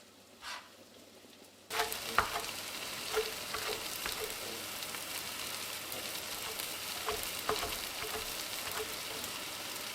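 Onions frying in a pan give a steady, close sizzle that starts abruptly and then holds, with a few stirring clicks over it and no talk.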